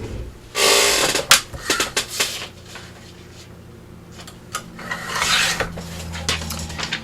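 Scissors or a craft knife cutting through vellum paper for a large winter journal pocket with a flap: a few bursts of crisp, close rasping and snipping with light taps in between, no talk.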